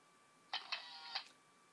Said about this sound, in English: And I'll take a photo.